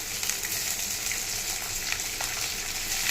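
Small onions and curry leaves frying in a pan for a mutton gravy, a steady bright sizzle and crackle close up, continuous and fairly loud with no voices.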